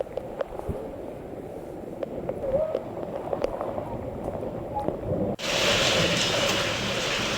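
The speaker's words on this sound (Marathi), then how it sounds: "सांगलीमध्ये त्याचबरोबर मिरजच्या पूर्व भागातील गारांचा हा पाऊस आपण पाहतोय" Dense pelting patter of a hailstorm with rain near Sangli and Miraj, loud and steady, with a sudden louder, brighter roar taking over toward the end.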